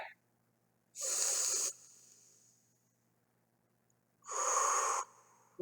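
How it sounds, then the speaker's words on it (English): Two deep breaths drawn into the belly, each a breathy rushing inhale or exhale about a second long, close and clear, separated by near silence. "let's take those 3 deep breaths together"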